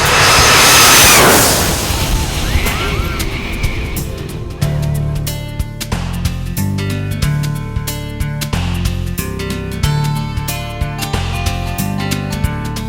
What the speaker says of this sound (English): literally almost touch the bottom of a jetliner as it comes in for a landing